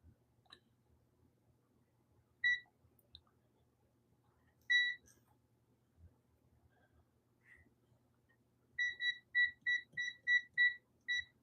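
A short electronic beep sounds twice, then a rapid run of about eight evenly spaced beeps near the end, over quiet low background hum.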